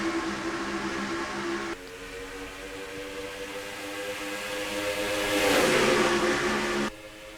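Race cars in a racing video game accelerate together at a green flag restart in the Lowe's 300. Droning engine tones climb steadily and swell to a loud peak near the end, then drop back.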